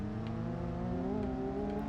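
Twin-engine car in BeamNG.drive revving on a dirt surface, a steady loud engine drone with layered harmonics that rise slightly in pitch midway and hold, with no talking.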